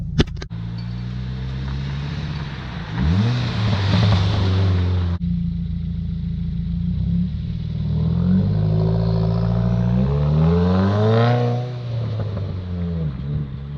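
A manual-transmission car's engine revs up and drops back several times in quick rev-matching blips, exhaust note rising and falling loudly nearby, with no talking.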